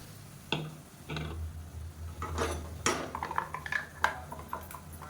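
Ground masala paste stirred and sautéed in a pan for a mushroom biryani kurma, with a spoon repeatedly scraping and tapping the metal pan in irregular bursts over a low background hum.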